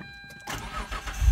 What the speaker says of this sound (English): Start the car, see where we at.